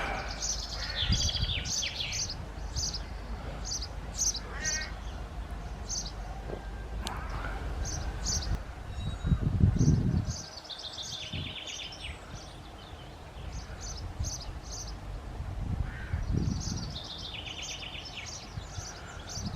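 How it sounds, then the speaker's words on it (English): Several birds chirp and sing in quick, repeated high phrases, moderately near, over low outdoor rumble and occasional rustling. "Birds are singing nicely this morning."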